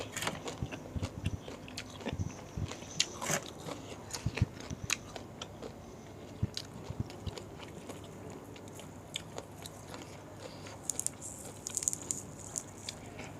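Crispy fried pork being bitten and chewed close up, a run of irregular crunchy bites and mastication sounds spread over several seconds with no talking.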